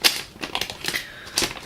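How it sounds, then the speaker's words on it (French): Scissors snip through the plastic packaging of a Yu-Gi-Oh! tripack in a few quick, crisp cuts and crinkles, close up with no talk. "il est en train de couper avec des ciseaux"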